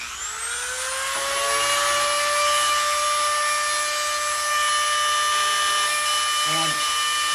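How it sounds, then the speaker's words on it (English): A Dremel rotary tool with a carbide burr spins up to a steady high-pitched whine while sharpening a bandsaw blade, holding a constant tone with brief grinding contacts near the end. "I'll try not to talk over the Dremel."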